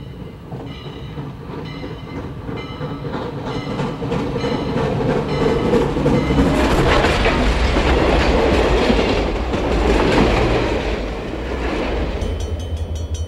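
Chicago and North Western locomotive 1385 heading a train toward Chicago, a loud continuous rumble with rhythmic clickety-clack of wheels over rail joints, the engine growing louder as it passes close by, then cars rolling on.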